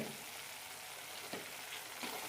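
Tomato pickle masala with Kashmiri chilli powder frying in oil, a quiet continuous sizzle and crackle with a few faint stirring scrapes.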